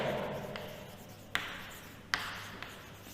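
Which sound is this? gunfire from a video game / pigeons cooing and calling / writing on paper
writing on paper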